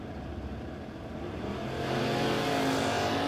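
Race trucks, including a Dakota and a 1994 GMC, accelerate at a drag race, a far-off engine roar rising steadily in loudness and pitch over a few seconds with no talk.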